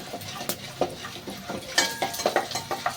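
Tempering spices with asafoetida are stirred in ghee in a pan: a spoon scrapes and taps in quick irregular strokes against a soft sizzle, close up and without speech.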